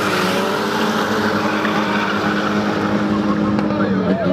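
Race cars and motorcycles at Autódromo Resistencia in Chaco during short drag-style races, a dense, loud roar of engines and track noise running continuously for the whole stretch.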